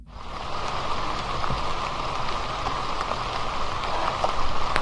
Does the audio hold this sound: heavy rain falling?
yes